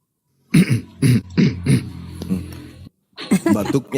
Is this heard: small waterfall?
no